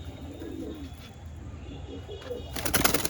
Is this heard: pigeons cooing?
yes